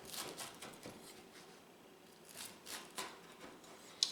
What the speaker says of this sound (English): I'm going to cut it into thirds.